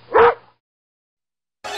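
A cartoon dog gives a single loud, close bark, followed by silence and then the start of a voice.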